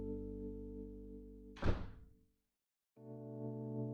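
A door pushed shut in a home gives one dull, fairly loud thunk over a steady low hum, which cuts out for a moment and then returns.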